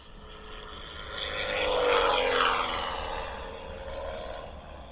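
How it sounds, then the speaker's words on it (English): A light propeller aircraft sound effect played from a children's transport sound book, a droning engine that swells and fades as if passing overhead, moderately loud and alone. "So then we find the light aircraft, right, and the sound associated with it."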